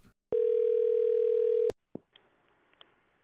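A telephone dial tone plays as a steady, loud hum for about a second and a half before cutting off, followed by a few soft clicks and faint line noise while a call to a coin shop is placed.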